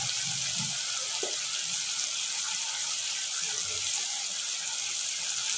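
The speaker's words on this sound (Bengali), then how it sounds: "এখানে আমি চাল আর ডালটা ভালো করে ধুয়ে নিচ্ছি" Rice with mung and masoor lentils being rinsed under running water, a steady close splash and trickle with faint low clatter of grains, no talk.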